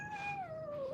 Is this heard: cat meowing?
yes